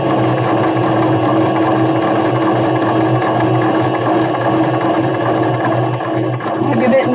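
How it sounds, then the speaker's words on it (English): A sewing machine stitches a buttonhole in satin fabric, giving a loud, continuous mechanical whirring and buzzing close to the microphone with no pause. "line it up where I want my buttonhole to be, and et voila, it's going to do a buttonhole."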